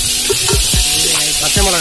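Onions and green chillies fry and sizzle loudly in a pan, a dense, close hiss broken by a few soft scraping stirs.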